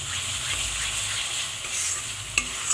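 Masala for egg curry sautés in oil in a pan, giving a dense close sizzle with soft stirring scrapes and a single sharp clink of the utensil near the end.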